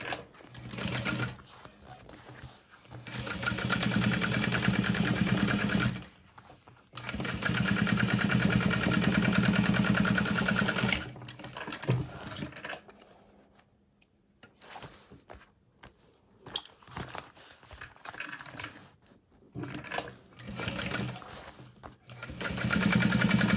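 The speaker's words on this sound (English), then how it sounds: "we'll top stitch this panel here" Sewing machine top stitching a handbag panel: long steady runs of fast mechanical whirring and needle chatter, close and loud, broken by pauses with small handling clicks before stitching resumes.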